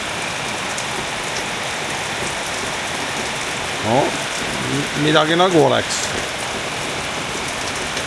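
Light steady rain patters continuously outdoors, a weak shower after an expected thunderstorm failed to arrive, while someone speaks briefly midway.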